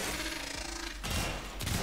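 Pistol shots fired in the Warframe video game, two or three sharp bursts in quick succession against a steady background din, with no talking.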